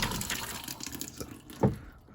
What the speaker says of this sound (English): Yeah, the water's running on empty.